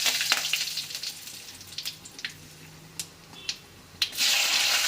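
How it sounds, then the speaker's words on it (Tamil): Mustard seeds spluttering in hot oil for a potato fry, a close steady sizzle broken by sharp popping crackles, swelling louder at the end. "கடுகு பொரிஞ்சதுமே"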